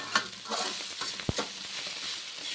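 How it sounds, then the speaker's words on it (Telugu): Egg noodles being stirred in a large kadai, with steady sizzling frying noise and repeated scraping, including one sharp clink of the utensil against the pan. "ఇలా మొత్తం కలిసేలా కలిపేసుకోవాలి"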